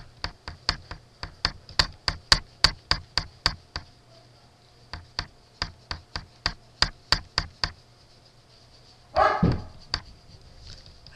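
A dog barks indoors in rapid, evenly spaced short yaps, two long runs broken by a brief pause, ending in a louder, rougher outburst.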